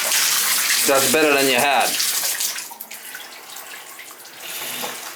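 Water runs steadily from a Symmons tub shower valve faucet, a broad rushing hiss that continues throughout, with someone briefly speaking over it early on.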